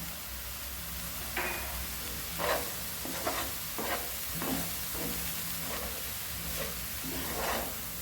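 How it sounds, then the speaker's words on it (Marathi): Chole masala sautéing in oil gives a soft, constant sizzle under intermittent scraping strokes of a stirring spoon, quiet and close. "साधे छान परतून घ्यायचं तेलकट पण आता बघा आपला मसाला छान परतला आहे"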